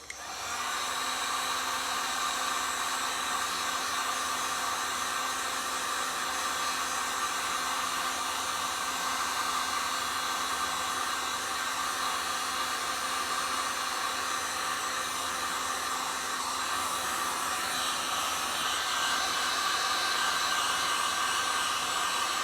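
A hair dryer blows a steady, unbroken whoosh at close range while drying resin spots on a mermaid scale tumbler, holding an even loud hum throughout with no voices.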